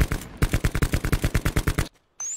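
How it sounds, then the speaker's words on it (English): Rapid automatic gunfire in Black Ops 4 Blackout, about fifteen loud, close shots in an even burst, cutting off abruptly into silence before a faint electronic tone. "It's the squad that we're shooting."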